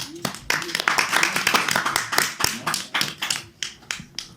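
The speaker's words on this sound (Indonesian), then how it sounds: "Ya, tepuk tangan." A group of students claps hands together, a steady run of sharp, close claps at a quick uneven pace, with voices talking briefly underneath.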